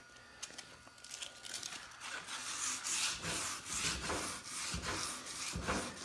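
Hand sanding of an old, crusty wheel rim with 180 grit sandpaper gives steady rasping, rubbing strokes in a repeating back-and-forth rhythm, close and moderately loud with no talking.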